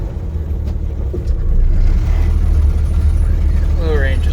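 A 1979 Jeep J10 engine idles and runs in low range, a steady, close low rumble filling the whole clip that swells slightly louder about a third of the way in, with a faint voice in the background.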